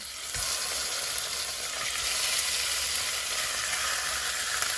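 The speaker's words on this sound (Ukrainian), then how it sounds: "Присмажувати лише трішки, не обов'язково робити її до готовності, тому що ми ще зараз будемо її тушкувати" Pieces of carp fry in a pan of hot oil, a dense, steady sizzle with faint crackles running evenly throughout, close up and with no voices.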